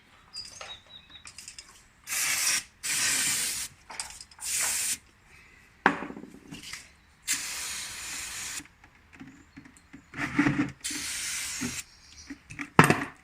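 Brake cleaner sprayed onto the gearbox of a Citroen C1, Peugeot 107/108 or Toyota Aygo 1.0 during a gearbox oil change: a series of sharp aerosol hisses in bursts of one to two seconds, separated by quiet gaps.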